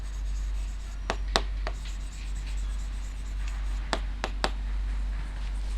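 Pen scratching across paper while a maths solution is written out, with a few sharp taps and strokes standing out over a low steady hum, and no talking.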